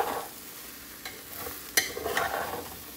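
Khichuri of rice, lentils, carrot, potato, peas and spinach is stirred in a pot over a soft sizzle, with a few sharp spoon clinks and scrapes standing out.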